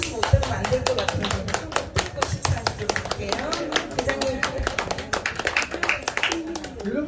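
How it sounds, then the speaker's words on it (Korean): An audience at a trot singing performance claps loudly and steadily in fast, dense applause, with a voice talking over the clapping throughout. "박수 소리가 적어요."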